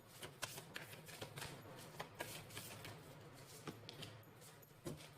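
Tarot cards being shuffled and drawn make a faint, rapid, steady riffling patter with small flicks, close and quiet, with no speech.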